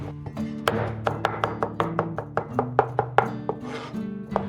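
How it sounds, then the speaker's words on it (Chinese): Garlic and ginger being chopped on a board for baked pork spare ribs, a steady run of sharp, close knife thwacks in quick rhythm, about a dozen hits, with no voices. "接下来我们拍一点大蒜跟生姜"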